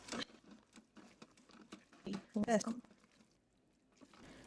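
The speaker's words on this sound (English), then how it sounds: "we're going to stir this up" A spoon stirs lemony orzo with lemon juice and mint, making soft, wet squishing and scraping sounds in short bursts that peak briefly near the middle, with quiet gaps between them.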